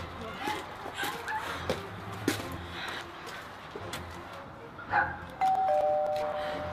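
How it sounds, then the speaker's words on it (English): A doorbell rings in a video being played back, heard among voices and background noise, with a steady chime tone sounding near the end. "Go ring the doorbell"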